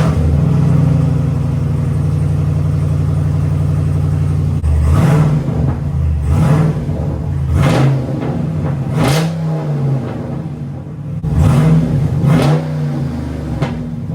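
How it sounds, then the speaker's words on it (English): Jeep JL Rubicon engine fitted with a new aftermarket exhaust, idling steadily then revved repeatedly in several sharp, loud bursts that rise and fall back to a deep rumbling idle. "let's see if we can hear any difference with the new exhaust on here."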